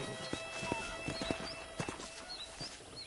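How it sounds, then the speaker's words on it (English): Horse hooves from the video game Red Dead Redemption clop in a slow, uneven walking rhythm, fairly faint, with bird chirps in the background. "Okay, let's see if you can still ride a horse."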